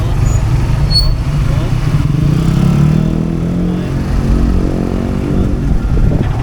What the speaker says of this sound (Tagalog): tricycle tayo ngayon mga katulings